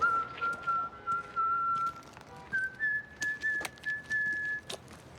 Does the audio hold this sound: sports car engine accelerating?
no